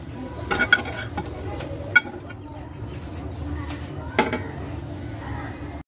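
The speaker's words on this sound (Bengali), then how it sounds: "এখন আমি চিনির শিরায় জাল দেব" Sugar syrup for an ash gourd (chal kumra) dessert boiling and being stirred in a pan, a steady bubbling sizzle broken by a few sharp spoon scrapes and clinks against the metal, close up.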